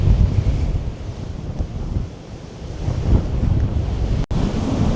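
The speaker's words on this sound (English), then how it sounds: "it's that windy" Strong gusts of wind at Mow Cop Castle roar and buffet the microphone continuously, a loud, rumbling rush that rises and falls without letting up.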